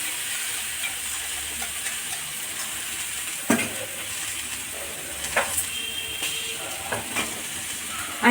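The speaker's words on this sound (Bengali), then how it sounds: "এই দইটাকে ভালো করে ফেটিয়ে নিচ্ছি" Yogurt whisked briskly in a bowl for a mushroom kofta curry, a soft continuous stirring and scraping with a few sharper clinks of the utensil against the bowl, close and steady with no talking.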